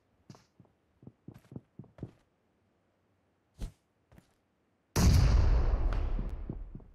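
A grenade thrown at a terrace house in PUBG Mobile: a few soft thuds and footsteps, then one sudden loud blast with a long rumbling decay that fades over two seconds.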